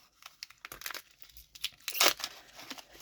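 A Mini Brands Foodies package being torn open, producing a few seconds of close crinkling and rustling of the plastic wrapper in irregular bursts, loudest near the end.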